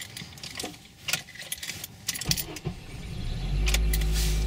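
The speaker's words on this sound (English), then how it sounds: "Start the car." Keys jangle in a 2002 Acura RSX with a manual gearbox, a few metallic clinks and rattles up close, followed by the engine starting and settling into a low steady idle at the end.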